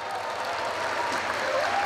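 A crowd at a State Police anniversary celebration gives a dense, sustained round of applause, heard close and full throughout.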